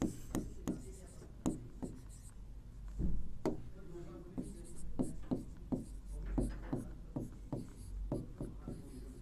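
Pen or chalk writing by hand during a Hindi maths lesson, heard as short scratchy strokes and taps in irregular bursts, close and moderately loud, with someone talking over and between them.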